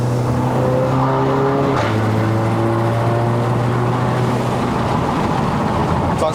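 Engine of a Stage 2 tuned MK7 VW Golf R revving hard on a mountain road in Malaysia, with loud steady harmonic drone that climbs in pitch, breaks at a gear change, then pulls again continuously.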